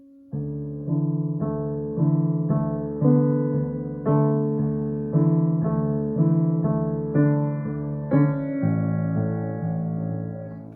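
Solo piano plays a section of a piece from Mid90s, with steady repeated chord patterns in a gentle, even rhythm, close and clear with no talking.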